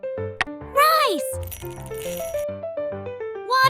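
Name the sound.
uncooked rice poured into a miniature pot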